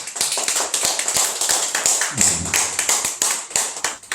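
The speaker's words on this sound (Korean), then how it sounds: "우리 힘차게 박수해 주십니다." Enthusiastic clapping from a church congregation during a Thanksgiving Sunday ordination service in Korea, a dense, fast patter of many hands that stays steady throughout, with a brief low murmur partway through.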